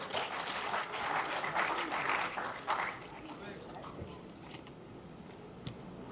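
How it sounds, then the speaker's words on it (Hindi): Enthusiastic applause from a crowd at a Martyrs' Day student event in New Delhi fills the room, loud clapping that gradually thins and fades toward the end. "एक बार जोरदार तालियों से स्वागत करें"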